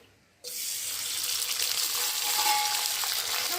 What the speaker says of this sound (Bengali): এবার আমি কয়েকটা পাঁপড় ভেজেও আপনাদের দেখাচ্ছি